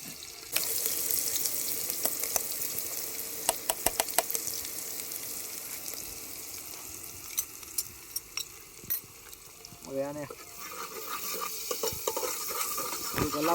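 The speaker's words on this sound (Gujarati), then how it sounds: "આપણે આમાં ડુંગળી નાખી દઈશું" Onions sizzle in oil in a pan while being stirred at a campsite cooking setup, a steady hiss of frying broken by scraping stirs and brief clinks, close and fairly loud throughout.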